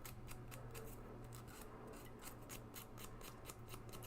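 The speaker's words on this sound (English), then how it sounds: "So I'm just tackling this with a little sanding stick." Quiet, steady rasping of a small sanding stick worked back and forth against the flared edge of a copper door handle, with soft repeated strokes and faint background hum.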